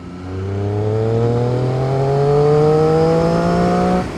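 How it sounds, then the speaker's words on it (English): A 2013 Triumph Street Triple R engine revs up smoothly and steadily, its pitch rising with a clear whining whistle over the exhaust drone, loud and close. "the engines on these Triumphs anyway have got a beautiful whistle to them"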